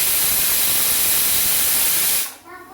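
Pressure cooker on a small gas stove releasing its whistle, a loud steady hiss of escaping steam that cuts off sharply just before the end.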